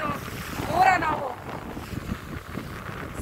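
Boat underway on the Arabian Sea near Koderi harbour, with heavy wind buffeting and water rush, and a brief voice-like tone rising in the middle.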